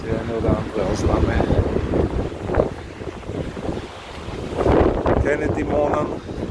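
Stormy wind gusts roar and buffet the microphone outdoors, a steady rushing noise that swells and eases over several seconds.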